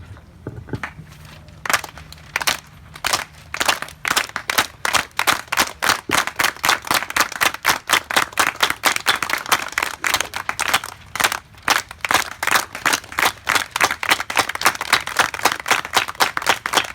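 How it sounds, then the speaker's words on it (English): A rally crowd at a protest demanding the Columbus statue's removal in Chula Vista performs a unity clap, starting slowly and speeding into rapid, loud, sharp claps that build steadily in pace. "Why don't we close it off with a unity clap?"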